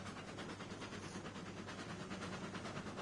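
A steam-era freight train hauls loads toward a sawmill in the railroad simulation game Railroads Online, giving a steady, dense rumble of wheels on rails with faint rhythmic clatter, continuous and even throughout, with no voices.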